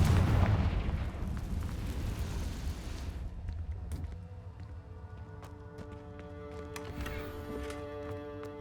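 A Confringo blasting spell bursts in Hogwarts Legacy, a loud booming explosion that rolls out over a few seconds, then decays into a ringing, tonal magical shimmer with scattered sparkling hits.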